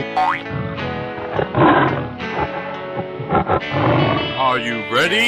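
A tiger roars in a 3D animal video game, growling, distorted roars mixed with cartoonish game effects and music, loud and close throughout.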